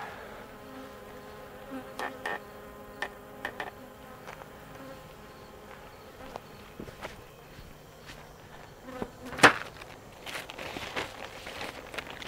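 Bees hum in a steady, close buzz at a beehive holding a tiny swarm, with scattered crackles, rustles and handling knocks layered over the drone and one sharper clatter near the end.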